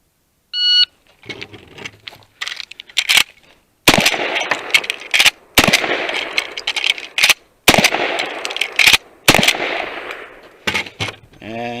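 An 1897 model old west shotgun fires a rapid string of loud shots, each blast followed by a brief pause and working of the action, with a beep from a shot timer at the start.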